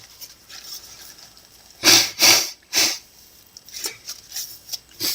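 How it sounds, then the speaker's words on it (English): Sniffing and sneezing from a person with a runny nose, a few sharp nasal bursts close to the microphone in a quiet indoor room, followed by several softer sniffs. "I'll be sneezing my nose a lot too, so excuse me."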